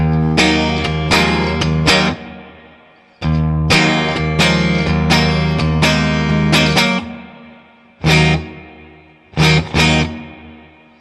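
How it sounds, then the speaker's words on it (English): Electric guitar through a Digitech RP1000 effects and amp switching system with reverb engaged: loud strummed chords in bursts separated by short gaps, each ringing out into a smooth decaying tail, with a few final isolated chord stabs. "There's the reverb."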